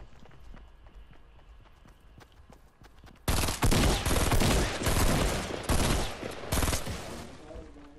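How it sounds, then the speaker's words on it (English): In Fortnite, shotguns blast a player-built castle: after a quieter stretch, a loud, dense barrage of rapid, overlapping gunshots erupts and keeps hammering for several seconds. "they're just shooting it with shotguns"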